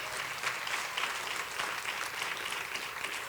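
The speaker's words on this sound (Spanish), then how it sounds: "Dale un fuerte aplauso al Señor" A church congregation claps loudly for the Lord during a sermon, a sustained, even round of many hands with slight pulsing swells and no voices over it.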